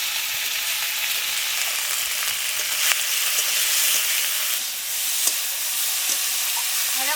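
Taro, taro stems, potato and green chilli with salt and turmeric fry in oil in a wok, a loud, continuous crackling sizzle with occasional stirring scrapes and no talk.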